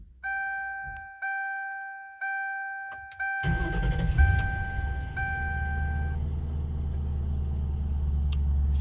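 A Ford Crown Victoria Police Interceptor engine starts after a few chime-like dings and settles into a steady, close idle rumble that continues to the end.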